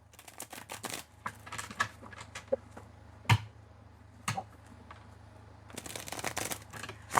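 Tarot cards are shuffled by hand in quick, crisp riffling bursts that come in irregular clusters with short pauses between them, close and fairly quiet with no talking.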